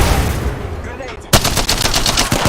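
Gunfire in the Apex Legends battle royale game: after a quieter ambient stretch, a sudden loud burst of rapid automatic shots rattles on in a close, dense rhythm until the end.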